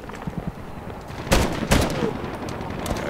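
Gunfire rings out in Medal of Honor (2010): two sharp, loud shots stand out over a busy battle background of scattered distant pops and rumble.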